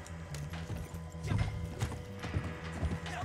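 A horse in Red Dead Online clip-clops along at a steady walk, close and clear, and the hoofbeats are joined by a low snort or whinny.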